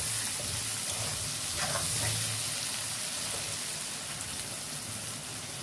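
Prawns fry in hot oil in a home kitchen, giving a dense, steady close sizzle like rain on a surface, with a faint stir partway through.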